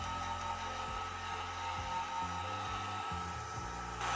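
A hair dryer dries alcohol ink with a steady, fairly quiet whir that runs for the whole few seconds, with a slight lift at the end.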